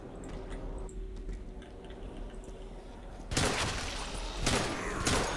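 Gunshots in the zombie video game Left 4 Dead 2: a quiet, murky lull, then a sudden loud burst of firing followed by a second sharp volley a moment later, close and harsh.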